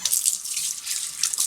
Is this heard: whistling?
no